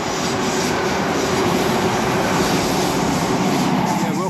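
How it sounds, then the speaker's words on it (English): A train runs through Berwick station without stopping, making a loud, continuous rumbling roar close by that holds steady from start to finish with no voices. "See, not all trains stop at Berwick."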